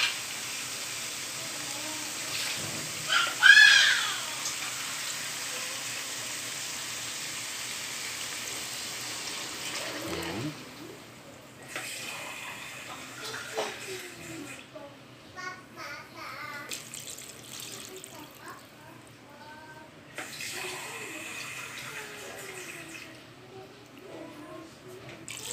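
Water is poured into a cooking pot of patola (sponge gourd) soup, a steady gushing splash that starts loud and then fades into quieter kitchen clatter.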